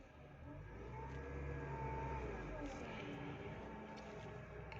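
A car engine running with a steady low humming drone, rising slightly and holding level for a few seconds, close and continuous.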